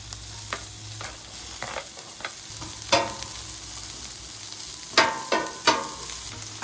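Onions and cabbage frying in oil on a Blackstone griddle for beef chow mein hiss softly and steadily, and several sharp scraping spatula strokes stand out nearby. No one speaks.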